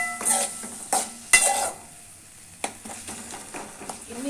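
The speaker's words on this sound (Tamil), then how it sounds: "உருளைக்கிழங்கு போட்டு இங்கே கிண்டிப்போம்." Potatoes frying in a pan as a potato stir-fry is stirred, with quiet sizzling broken by several sharp clinks and scrapes of a spoon against metal.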